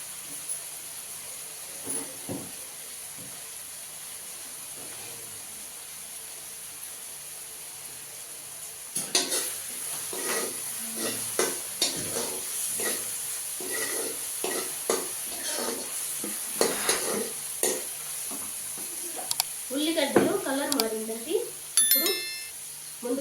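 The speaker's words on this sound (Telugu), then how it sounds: "అల్లం వెల్లుల్లి పేస్ట్ పచ్చి వాసన పోయేంత వరకు బాగా వేసాలండి" Ginger garlic paste frying with onions in a pan while a Telugu prawn curry with panakanthaku greens is cooked, giving a soft steady sizzle and stirring scrapes that grow busier partway through, with occasional clinks.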